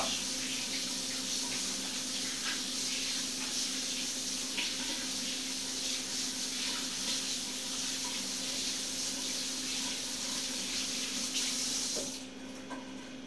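Tap water running steadily into a sink while something is washed, a broad close hiss that carries on for about twelve seconds before the flow is shut off, leaving quiet room noise and no talk.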